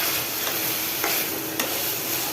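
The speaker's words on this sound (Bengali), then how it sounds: "তো ওইখানে আমি ভালো মতন পটলটা কষাই নিচ্ছি" Pointed gourd stir-fried in a pan gives a continuous close sizzle, with spatula scrapes at a slow, steady rhythm and no voices.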